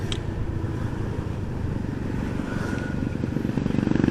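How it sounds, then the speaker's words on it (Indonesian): Motorcycle engine pulling under light throttle on a road ride in clear weather, a steady close drone with dense low harmonics that swells and revs slightly louder toward the end, heard alone without talk. "ngegas dikit gas gitu, enak"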